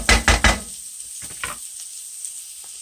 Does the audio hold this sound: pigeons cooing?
no